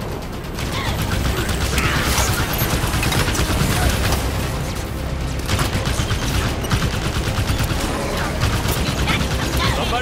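Rapid bursts of mechanical automatic turret gunfire with clanking and ratcheting, loud and sustained, mixed with Halo 5 campaign battle noise throughout.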